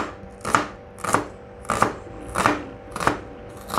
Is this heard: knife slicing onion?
yes